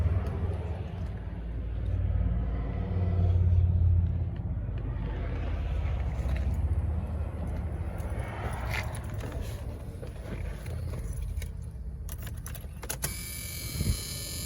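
A 1987 Chevrolet Silverado C-10 pickup, lime green, idles with a steady low, close rumble that stays even throughout, with a brief voice heard over it.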